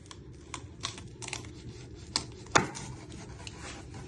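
A knife works through a chilli on a chopping board, with scattered light taps and scrapes and one sharper cut, close and quiet, with no voice.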